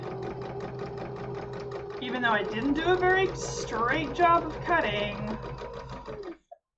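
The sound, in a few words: sewing machine stitching a tunic seam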